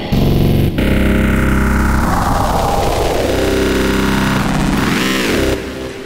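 Gritty FM synth patch from the Algoritm ReFill, loud and distorted, with a long descending metallic sweep, a short cutoff, then a wobbling warbling swell that fades near the end.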